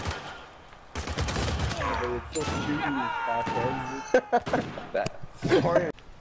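Gunfire in the video game Uncharted 4 crackles in rapid bursts and sharp single shots through the clip, mixed under people talking and laughing.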